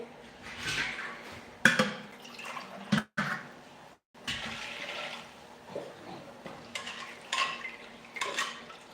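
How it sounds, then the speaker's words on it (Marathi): Water splashes and swirls as moong lentils are washed in a metal pressure cooker, with clinks of the vessel and intermittent pouring and draining sounds, close by and moderately loud. "त्या कुकरमध्ये डाळ धुवून घेते स्वच्छ मी स्वच्छ पाण्याने धुवून घेते"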